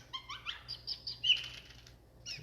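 A blue jay calls in Connecticut, giving a rapid series of bright, sharp chirping notes close by, followed by a harsher burst and one more call after a short pause.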